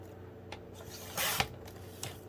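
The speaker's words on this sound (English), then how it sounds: "I'm going to pull out my paper trimmer again, and I'm just going to take the slightest edge" A single brief crisp slicing sound from a paper trimmer blade cutting through paper, preceded and followed by faint clicks and handling noises.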